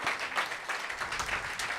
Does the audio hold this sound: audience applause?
yes